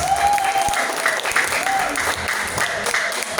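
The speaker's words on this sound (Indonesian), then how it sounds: "Tepuk tangan dong untuk PT BES." Steady audience applause fills a seminar hall during a talk on debt-free, riba-free living. Dense clapping runs throughout, with a faint whistle-like tone near the start.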